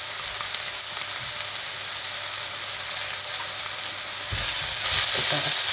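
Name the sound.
garlic added to frying pan for mushroom bhuna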